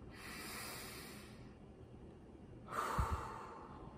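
A slow, deep calming breath, a long hissy inhale followed after a pause by an audible snorting exhale, close and quiet with no talking.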